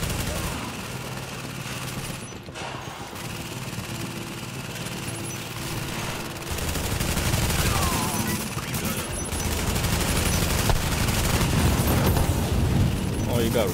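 Enemy gunfire in The Division fills the scene, a dense, continuous fusillade of rapid shots and booms that grows louder partway through, with a voice speaking over it at times.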